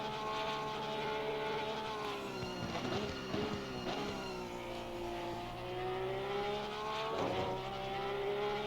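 Porsche race car engine in Assetto Corsa Competizione at Mount Panorama, Bathurst, a steady moderately loud whine that rises and falls with revving and gear changes, fairly close.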